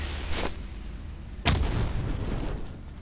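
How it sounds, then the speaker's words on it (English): Stick of dynamite exploding in the video game Cultic, a sharp burst followed about a second later by a louder, heavier blast that rumbles and fades, with no talk over it. "That immediately detonated, so we probably got him."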